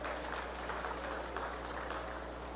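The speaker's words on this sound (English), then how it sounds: "Let's give all these exhibitors and neighbors and everybody involved a nice round of applause" Applause from a county fair crowd for 4-H, FFA and open beef cattle show exhibitors, a dense steady clapping that holds at even loudness without voices.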